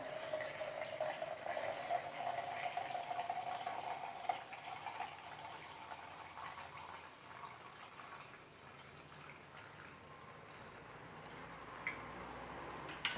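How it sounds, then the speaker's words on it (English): Water runs into a coffee press for cold brew, a faint, thin pouring trickle whose pitch shifts as the vessel fills, with light ticks and drips toward the end. "Now I'm going to put water into this, so 1 liter of water."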